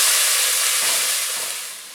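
Garlic and ginger sizzle steadily in hot oil in a pan, a broad continuous frying hiss that holds loud for two seconds before easing off slightly, with no voices.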